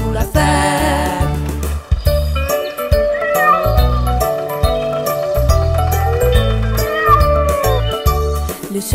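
A voice sings a French children's tune about a cat on a tractor over bright backing music, repeatedly imitating a cat's meow in a steady, rhythmic pattern.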